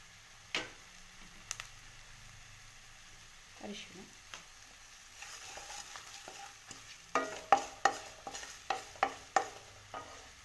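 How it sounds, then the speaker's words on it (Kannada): Ingredients frying in a pan for khara pongal, a soft sizzle with scattered stirring clicks and scrapes that grow more frequent toward the end, close and fairly quiet. "ಫ್ರೈ ಆಗ್ತಾ ಇದೆ."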